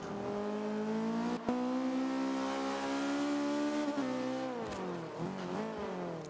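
A Caterham R500 engine in the Forza 5 racing game drones loud and steady at high revs, then shifts up with a brief drop and a pitch change before pulling again.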